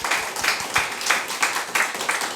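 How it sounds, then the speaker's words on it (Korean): A church congregation at a Sunday worship service claps in unison, a rhythmic series of about nine evenly spaced group claps over two and a half seconds, fairly close and clear with no talking over it. "박수해 주시기 바랍니다"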